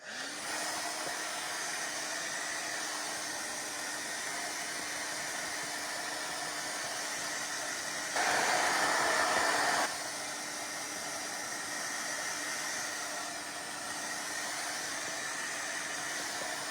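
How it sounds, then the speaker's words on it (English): A hair dryer blows steadily on wood with a constant whooshing roar, briefly louder and harsher partway through before settling back to its even drone. "I'm going to hit it with a blow dryer."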